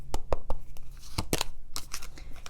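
Astrology cards are pulled from a deck and handled close up, making sharp papery snaps and slides in a quick irregular series, followed by softer shuffling rustles.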